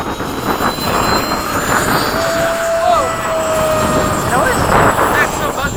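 An RC electric ducted-fan jet, a Freewing 80mm F-5 flying with other model jets, whines steadily overhead with a buzzy, fairly loud tone that shifts pitch as it passes, against outdoor noise at an airfield.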